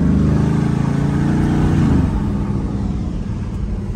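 A rebuilt Aston Martin drives up the Stelvio Pass, its engine a loud, steady close drone that eases slightly partway through, with no voices over it.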